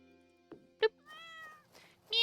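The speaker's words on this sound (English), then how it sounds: "Meow. Hello, pretty kitty." A cartoon cat meows in the farming game Stardew Valley Expanded, a few short bright meows with a longer drawn-out mew in between, clear and close over quiet game ambience.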